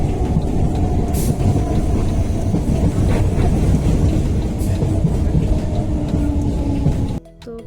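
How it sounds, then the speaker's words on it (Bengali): Maitree Express train rolling past at a railway station, a loud continuous rumble and clatter of wagons close by, sustained for several seconds before cutting off abruptly. "মৈত্রী এক্সপ্রেস যাচ্ছে, একটু ক্যামেরা বন্দি করলাম।"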